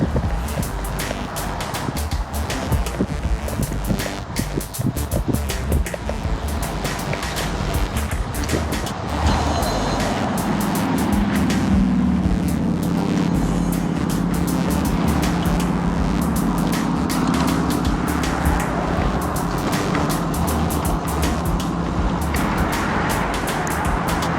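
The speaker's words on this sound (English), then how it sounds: "At this point, we've got a nice wind blowing from behind" Wind rushes past a cyclist riding with a tailwind beside trees, a continuous broadband roar that surges and settles, mixed with road and passing traffic noise throughout.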